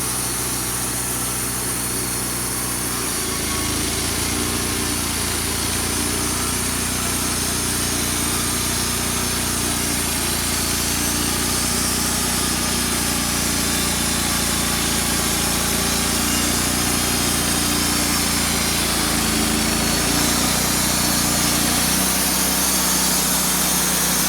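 A sawmill runs outdoors, cutting through a log with a loud, continuous engine drone that holds steady throughout, its pitch dipping slightly as the blade works through the wood.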